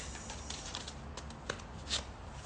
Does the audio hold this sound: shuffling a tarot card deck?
yes